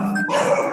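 Small dogs barking and yipping close by, a short burst of high, excited yaps with a whimpering edge, loud and alone without talk.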